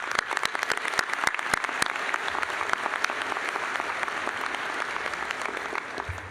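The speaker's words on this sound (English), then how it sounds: "So a round of applause for all these great leaders" Steady applause fills a hall at the College of Veterinary Medicine commencement ceremony, many hands clapping continuously with sharp individual claps standing out close by, and no talking over it.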